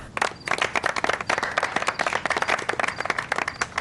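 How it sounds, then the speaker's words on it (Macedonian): An audience applauds with brisk, dense clapping that flutters unevenly and carries on without a break for several seconds. "голем аплауз за мрднатава."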